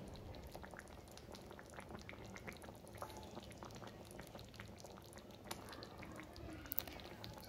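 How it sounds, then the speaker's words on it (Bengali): A pot of fish curry made with home-pond fish bubbling on the stove, a faint, steady simmer of small bubbles and occasional soft pops throughout. "তো মাছের ঝোল আমি একটু ফুটিয়ে নেব।"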